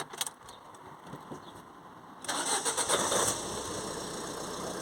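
A car engine, started with a TOPDON JS3000 jump starter, turns over and catches about halfway through, then settles into a steady idle after a short burst of revving.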